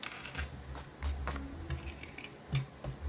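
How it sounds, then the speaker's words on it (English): Snipping and small clicking sounds of scissors cutting, several light irregular cuts close up, quiet room, no voices. "your scissors work just great"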